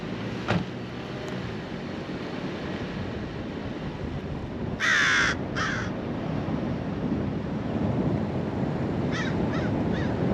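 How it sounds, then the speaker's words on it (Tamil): Seabirds call harshly from a rock on the Monterey coast, a few short raucous caws rising over steady surf and wind rumble, moderately near, with no talking. "But this whole area is actually covered with birds."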